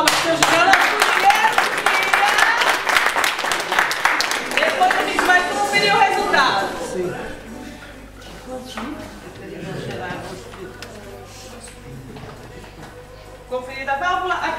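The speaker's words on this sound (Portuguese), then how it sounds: "Uma salva de palmas" A burst of hand clapping from a small group fills the opening seconds, then fades out into quieter room noise and talking.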